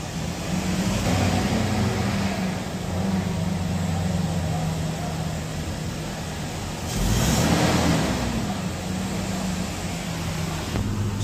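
A Toyota Hilux or Innova engine runs steadily at idle after a tune-up and carbon cleaning, with a low constant hum and a brief swell in level partway through. No talk is heard.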